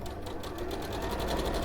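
A sewing machine stitching a quarter-inch seam through quilt fabric at a slightly longer stitch length, running in a fast, steady, close hum of needle strokes with no pause.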